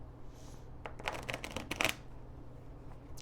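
Tarot cards being shuffled by hand in a quiet room, a quick burst of riffling and flicking slaps lasting about a second, then faint handling over low background hum.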